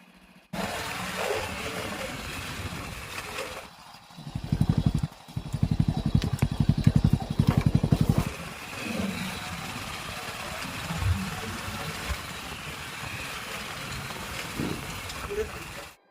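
A motorcycle rides into a forest of hills and valleys with a steady engine drone, swelling louder in the middle with a rhythmic throb, under a voice at times.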